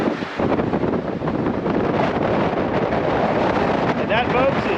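Strong wind buffets the microphone on an exposed ridge of the Pali Puka Trail in Hawaii, a loud continuous roaring rush with gusty swells, close and unbroken throughout, with a voice faintly heard within it.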